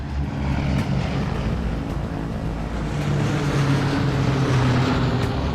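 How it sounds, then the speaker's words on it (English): Steady, loud drone of B-17 Flying Fortress bomber propeller engines as the heavy aircraft take off, a dense continuous low roar filling the whole stretch with no talk. "On this day, more than 100 B-17s take flight."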